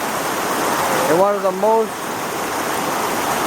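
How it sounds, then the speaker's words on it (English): The Kepaniwai river flows through Iao Valley on Maui, a loud, continuous close rush of running water with a voice briefly speaking over it. "We are sitting right in the river of Kepaniwai."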